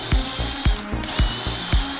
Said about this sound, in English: I want to go ahead and drill out all the holes for the adjustable